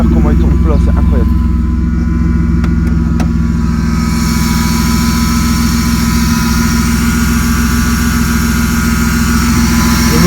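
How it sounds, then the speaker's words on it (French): Engine of a drift car running without a silencer, a loud steady idle with a deep even drone that holds constant throughout, brief higher whine early on. "Écoutez le bruit du moteur, comment il tourne plat, c'est incroyable."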